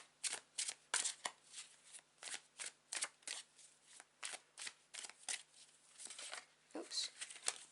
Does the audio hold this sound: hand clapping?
no